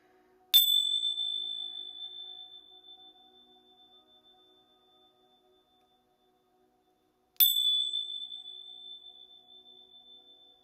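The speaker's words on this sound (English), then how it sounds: "let me ring these bells really quickly" Two bright bell strikes rung by hand, each a sharp metallic ding with a long, slowly fading ring, the second coming about seven seconds after the first, alone and fairly near.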